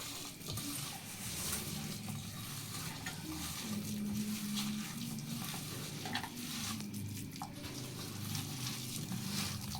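Moong dal vadas sizzle steadily in hot oil, a close, continuous crackle and hiss with occasional light stirring and utensil clinks, no talking.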